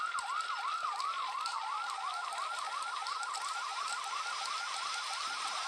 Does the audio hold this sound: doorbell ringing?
no